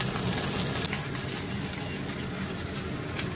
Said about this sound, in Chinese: 鱼煎一下